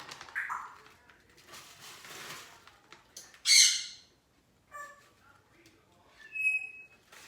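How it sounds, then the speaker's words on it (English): Birds squawk and chirp in bursts, with one loud shrill squawk in the middle and scattered tweets around it, moderately close, with no other sound competing. "The birds are going off again."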